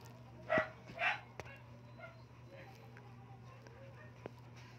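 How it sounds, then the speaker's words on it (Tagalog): A neighbour's dog some distance away gives two sharp barks in quick succession, then a low steady hum with faint, scattered noises. "Pasensya na po ang ingay ng aso sa kapitbahay."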